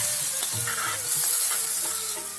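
Spice paste with asafoetida frying in a pan, a dense continuous loud sizzle close up with a few soft stirring knocks, no voices.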